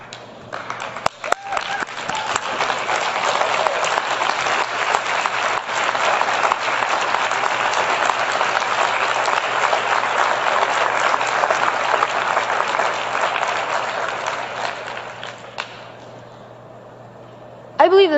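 An audience at a United Nations event on 10 February 2017 applauds and cheers, loud and sustained broadband clapping for about fifteen seconds before fading, with a few brief tones near the end.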